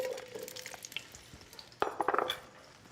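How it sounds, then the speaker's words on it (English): Sliced zucchini caramelizes in olive oil in a pan, a soft sizzle broken by scattered scrapes and stirring clinks that bunch into a louder cluster near the end. "We want to caramelize this zucchini"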